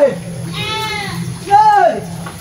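A goat bleats twice up close, with a short cry followed by a louder wavering bleat over a steady low background hum, with no talking.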